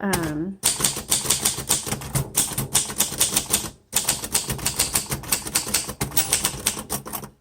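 A 1952 Royal Quiet De Luxe manual typewriter typed on close up, giving rapid bursts of crisp key strikes that stop twice in short pauses, with a bell-like tone at the very start.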